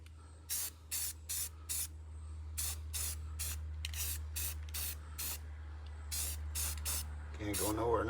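Short, sharp bursts of a spray can hissing as paint goes onto a welded truck box for a Cummins-powered Fargo, about a dozen quick close puffs over a low steady hum.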